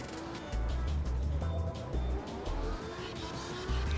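Car tires squealing during a drift in the racing game CarX Drift Racing Online 2 on nearly worn-out tires, a sustained engine roar with pitched tire screech and brief drops between bursts.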